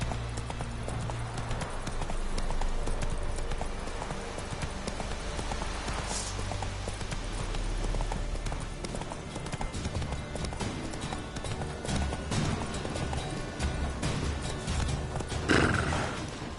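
Horse hooves clip-clop at a steady gallop through The Witcher game world, a dense rhythmic pounding with an occasional neigh, while music and ambient game sound play throughout.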